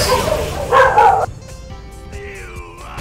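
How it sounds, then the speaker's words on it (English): Dogs bark in short, loud bursts near the start, followed by a quieter whining, yipping call later on. "hear the dogs barking?"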